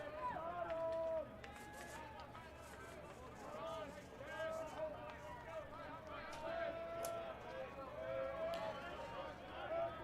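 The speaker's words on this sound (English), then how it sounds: "Crowd making noise, dugouts making noise here." Crowd noise and chatter from the stands and dugouts at an NCAA baseball championship game, Lynchburg against Misericordia, a steady distant murmur with scattered shouts and whistles, no announcer speaking over it.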